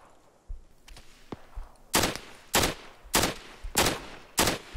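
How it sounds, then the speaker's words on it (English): Tracer rounds fire in a military video game as single loud shots, about six evenly spaced reports after a few fainter clicks, each crack sharp and close with a short decay. "Wait, I shoot my tracers."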